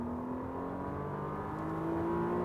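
A McLaren 720S at full throttle on the Circuit de Fontenay-le-Comte, its engine note heard from inside as a steady droning roar that slowly rises in pitch, with no speech.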